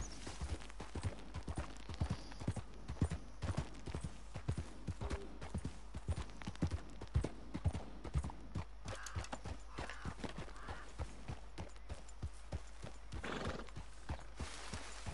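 Horse hooves clip-clopping in a steady galloping rhythm in the video game Red Dead Redemption 2, close and prominent, with a whinny partway through and brief snorting.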